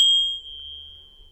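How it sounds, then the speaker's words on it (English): Tibetan tingsha bells struck once give a bright, pure metallic ding that rings on as a long, slowly fading tone in a quiet room. "tincture bells are used in healing and meditation, and to bring your attention to the now as well"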